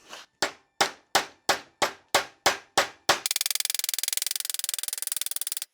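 Hammer strikes on a bent steel hood latch rod from a Porsche 911: eight loud, evenly spaced metallic clangs, then a fast burst of rapid ringing taps, all close and without talk.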